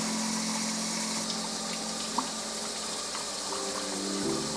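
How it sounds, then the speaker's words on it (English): Tap water runs steadily into a film developing tank during the wash step, a continuous hissing gush with a faint low hum underneath and a brief clink partway through, heard alone without talk. "Put that under the water."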